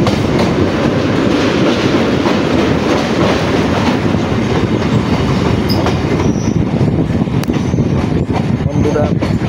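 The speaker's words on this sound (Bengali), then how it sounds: "ট্রেন এখন এসে পৌঁছেছে আমাদের ইডেন গার্ডেন স্টেশনে" A Kolkata local train running on rails between B.B.D. Bag and Sealdah via Majerhat, nearing Eden Gardens station: a loud, steady rumble and rattle of wheels and wagons, with faint wheel squeal, heard from on board.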